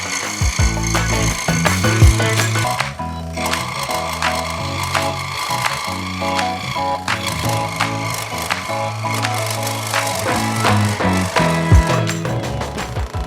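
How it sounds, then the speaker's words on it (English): Scroll saw cutting through a wooden spear blank, a steady close buzzing rasp with rhythmic low thumping, continuous and loud throughout with no talking. "we're going to cut it out with the scroll saw"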